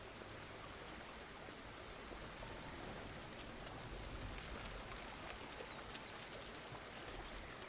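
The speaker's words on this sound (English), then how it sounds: "Looks like it's raining inside." Steady rain falls in the Lumberjack's Dynasty video game, a soft continuous hiss of drops with no talking.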